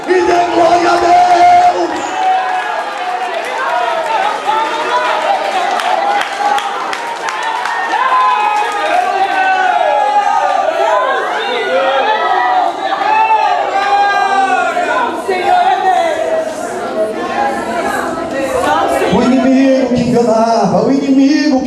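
Church congregation applauding and cheering during a Portuguese-language sermon, a sustained loud crowd roar of clapping, whoops and shouts that continues throughout, with a preacher's voice carried over it.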